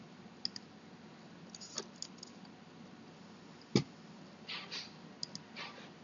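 A few faint, sharp computer mouse clicks spaced irregularly over quiet room tone, from right-clicking through menus while working in AutoCAD.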